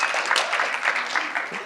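Audience applause at a conference talk on blockchain patent risks, a steady wash of many hands clapping for under two seconds with no pauses, fairly close and continuous.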